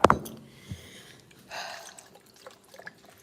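Water draining from shrimp in a kitchen strainer, an initial sharp splash followed by soft trickles and scattered drips, close and brief.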